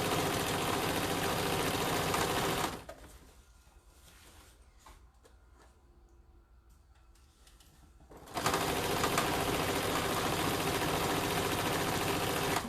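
A sewing machine runs at a loud, steady whir while stitching fabric for a basket, pauses for several seconds of quiet handling, then starts up again at the same pace.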